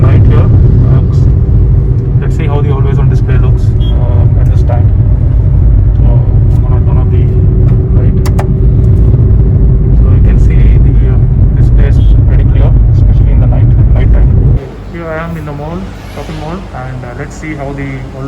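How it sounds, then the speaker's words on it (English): At night, a car's engine and road noise make a loud, steady low rumble from inside the cabin for most of the time, then drop to quieter background sound near the end. "Alright, so I'm driving car."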